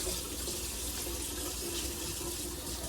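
Tap water runs steadily into a kitchen sink while oxtails are being washed, a continuous close hiss and splash with no talking.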